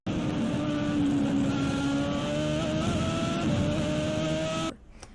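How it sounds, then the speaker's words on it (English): A Dallara IR05 IndyCar race car with a V8 engine holds a steady, harmonic high-revving drone for several seconds before the sound drops away suddenly. "These cars sounded gorgeous, with a harmonic V8 that produced quite a bit of horsepower."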